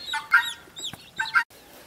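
Broiler meat chickens on an off-grid homestead cluck in a few short bursts, fairly close and moderately loud, with brief quiet gaps between calls and no talking.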